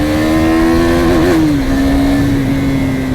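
A KTM Duke 390 motorcycle accelerates hard with a loud, close, steady engine drone that rises slightly in pitch, with no voices.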